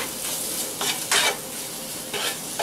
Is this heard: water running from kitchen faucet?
no